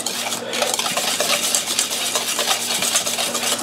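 A spoon stirring manicotti filling with nutmeg and an egg in a bowl, giving steady scraping and clinking strokes, close and busy, with no voices.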